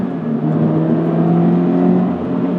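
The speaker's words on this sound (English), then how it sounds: "Oh, I've missed my exhaust, dude." A 2017 Subaru BRZ with an aftermarket exhaust drones steadily up close, a loud, even engine and exhaust tone that holds without breaks.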